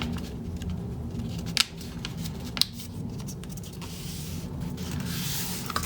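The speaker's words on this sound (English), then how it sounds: "Cut out each strip." Scissors snip through paper strips for a woven paper bookmark, two sharp cuts standing out above a steady low rumble of background noise, close by with no talking.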